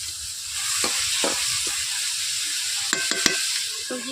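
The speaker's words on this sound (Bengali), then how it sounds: "সবজিগুলোকে আমি ভেজে নিচ্ছি" Pui shak with potato and eggplant frying in a pan, a steady close sizzle and hiss with a few scraping stirs and light clinks near the end.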